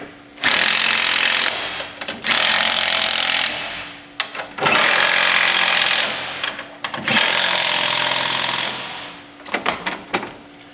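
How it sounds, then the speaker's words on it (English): A surface bracket is tightened down on a flip extension with a power driver, which runs in three long, loud, steady bursts separated by short stops and trailing rattles, close up and with no talk. "we can now tighten down the surface bracket"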